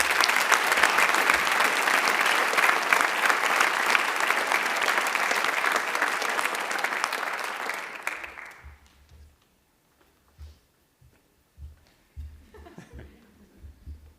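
A high school honors-night audience applauds honored students with loud, dense clapping for about eight seconds, then it fades abruptly into near quiet broken by a few faint knocks and shuffles.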